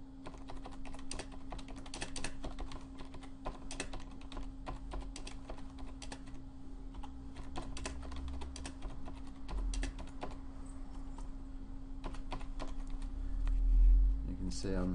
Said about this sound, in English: You can see I'm typing a little bit too near the computer here.